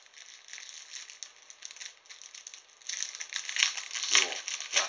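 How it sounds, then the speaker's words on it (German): Plastic wrapping around a fabric banner crinkles and rustles up close, soft at first and then louder, busier crumpling in the second half as the banner is unpacked. "Ich werde das jetzt mal auspacken."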